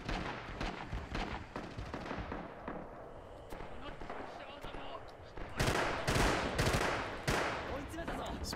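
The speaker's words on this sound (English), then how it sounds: "I'm just firing burst. So as to not have too much recoil." Rifle fired in short bursts in the Rising Storm World War II shooter, sharp cracks in quick clusters amid distant battlefield gunfire and explosions, louder bursts toward the end.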